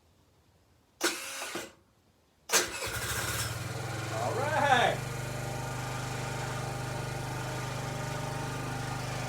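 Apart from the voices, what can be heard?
50cc scooter engine starting and idling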